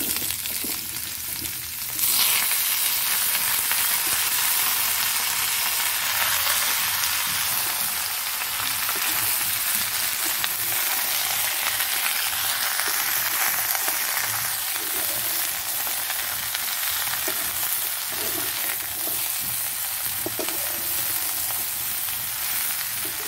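Loud, steady sizzling and crackling of drumsticks, bottle gourd and potato frying in a pan, with an initial burst as the vegetables go in and continuous hiss throughout, no voices.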